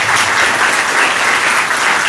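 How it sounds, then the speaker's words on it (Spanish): Loud, dense applause from an audience after a lecture presentation, a continuous roar of many clapping hands that stays even and close for the whole stretch. "Muy bien, un aplauso, por favor."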